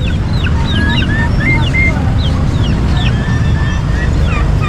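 Bantam chickens and other fowl cluck and squawk at a busy outdoor pet market, loud and close, with high chirps scattered over a constant crowd murmur.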